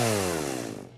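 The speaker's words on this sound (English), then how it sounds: "Eric showed up outside the screen door and revved his chainsaw." A chainsaw revving loudly and close as a sound effect, a harsh buzzing roar whose pitch slides steadily downward as it winds off over about a second.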